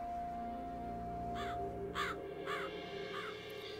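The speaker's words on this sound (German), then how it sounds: "Oder Krähe, was auch immer das war." A raven or crow caws in Gothic II, four harsh separate croaks spaced about half a second apart over a soft, steady game ambience with a sustained tone underneath.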